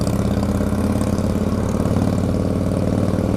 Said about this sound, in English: Can you hear that exhaust? That's monstrous.